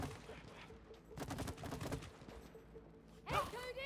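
Plunger gun firing at a shooting range in the It Takes Two video game: a quick cluster of sharp mechanical pops in the middle, with creaky game effects and voices talking around it.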